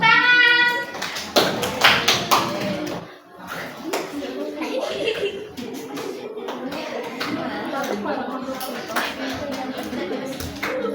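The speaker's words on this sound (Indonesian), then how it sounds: "tepuk tangan." Group of people clapping hands in a small-group teaching session, bursts of sharp claps interspersed with voices talking, some claps close and loud, others fading.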